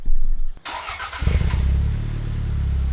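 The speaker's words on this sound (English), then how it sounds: "First, let's hear a cold start." A Toyota Celica GT-Four cold-starts: a brief starter crank, a sharp catch, then the engine settles into a loud, steady high idle close by, with no talking.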